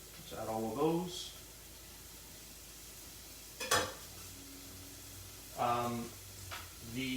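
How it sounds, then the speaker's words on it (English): Shallots sizzle softly in a pan while pasta sugo is being cooked, with a quiet steady frying hiss. A voice talks over it in short bursts. "you can hear that starting to sizzle already"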